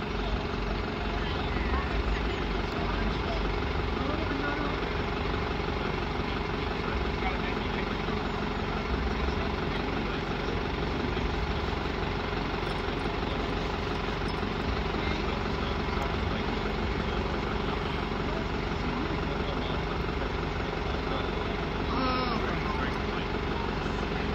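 Greater Anglia electric unit 720521 pulls away from Cheshunt station on a Hertford East service, a loud, steady broadband drone that holds unbroken throughout.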